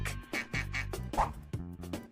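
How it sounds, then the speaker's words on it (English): A duck gives a quick run of nasal quacks, about eight bursts in close succession, near and quiet, with no talking. "It's a duck."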